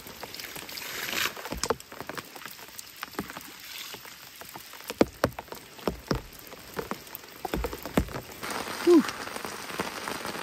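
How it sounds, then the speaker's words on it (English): Steady rain patters on a surface at a remote mountain lake campsite, with scattered heavier drops and brief knocks; quiet and close, with no talking. "That rain seems to come and go."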